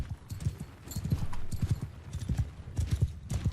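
Hooves of horse archers' mounts gallop in quick, uneven clip-clop rhythms in a Bannerlord battle, several horses moving together at close range.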